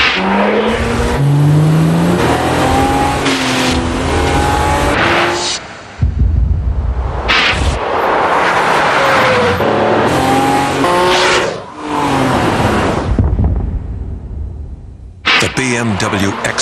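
A BMW X5 drives in a TV commercial break during a baseball game broadcast, with loud engine revving, acceleration and tire squeals in several bursts alongside music and an announcer's voice.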